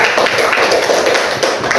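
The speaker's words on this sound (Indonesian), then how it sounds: "Kasih aplaus untuk kelompok 3" A classroom group claps for group 3 during a teaching practice session, a loud, close burst of dense, continuous applause with overlapping hand claps throughout.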